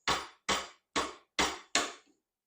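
A 1-inch chisel chops rabbet waste out of wood near a gauge line, with five sharp, evenly spaced strikes about half a second apart, close and loud, with no talking.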